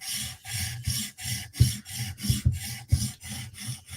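A Tanto M4 knife edge is stroked across a sharpening stone in a steady rhythm of about eight scraping, rasping passes, close and distinct, with brief pauses between strokes.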